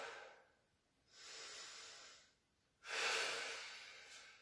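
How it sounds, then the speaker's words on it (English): Slow, deep breaths during a workout cool-down: two long, soft, breathy exhalations, each lasting over a second with a quiet pause between, close and alone. "just take a few slow, deep breaths"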